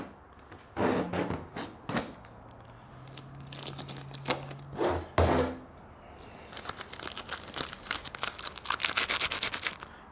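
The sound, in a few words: masking tape being pulled off a car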